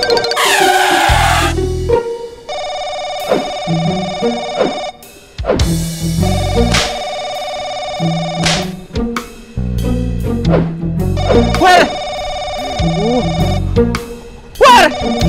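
A telephone rings in a comedy sitcom scene, with loud electronic ringtone bursts that repeat several times, cut between short silent gaps and brief background sounds.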